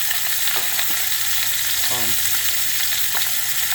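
Pork chops seasoned with garlic salt and ground pepper sizzle steadily on a hot grill, a constant close hiss with a few faint scrapes and pops throughout.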